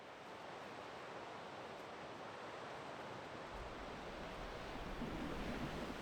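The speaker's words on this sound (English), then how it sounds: "It sure is windy here, and the waves are nice and big" Big sea waves surge and crash on a stormy, windy day in Sweden, a continuous broadband roar of surf and gusting wind filling the scene, growing slightly louder toward the end.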